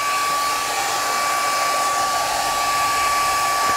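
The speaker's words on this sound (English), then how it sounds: "The Pepper hair dryer sneeze set." A hair dryer blows steadily and loudly, a constant whooshing hum with a high whine that never changes.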